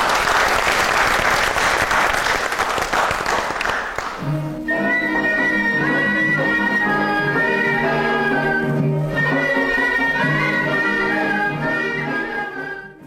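An audience at an Armenian evening event bursts into loud, dense applause for about four seconds before music takes over.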